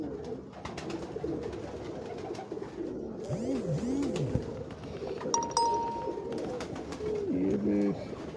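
Cross-bred Kamgar pigeons on a Lahore rooftop give soft, repeated coos over a busy background, with a few clinking sounds and people talking nearby.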